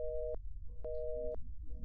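Telephone busy signal in an abandoned house, steady repeating tones with even gaps and a low rumble of background noise underneath.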